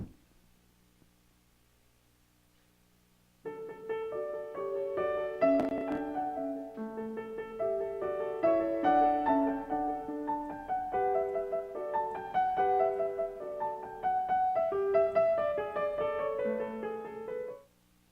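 After a brief near-silent start, a piano plays a flowing classical sonata passage with melody over moving accompaniment, steady and moderately soft.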